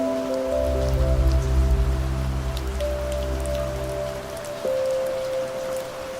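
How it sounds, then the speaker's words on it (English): Rain falls steadily under a canopy of oak trees over a path, a continuous patter of drops with scattered sharper ticks over a low sustained hum. "Walking beneath them in the rain felt almost magical."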